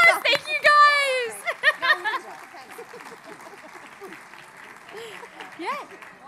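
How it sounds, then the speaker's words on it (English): Applause and cheering from a crowd at a charity dance show event, with high excited voices and whoops at first, then scattered clapping and murmured talk continuing beneath. "All right, round of applause."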